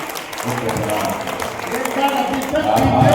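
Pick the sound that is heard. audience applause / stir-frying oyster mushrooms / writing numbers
audience applause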